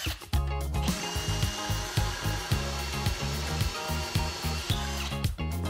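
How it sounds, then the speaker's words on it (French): A power drill whines steadily while boring holes into a wooden slat and board, close and continuous with slight pitch dips as the bit bites into the wood. No one speaks. "Percez aux endroits marqués dans la latte supérieure et dans la planche supérieure."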